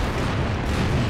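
An artillery strike in the Brass Brigade battle simulator, set on Berlin streets during a Red Army assault: a dense, continuous rumbling barrage of low booms rolls on with no break, loud and close.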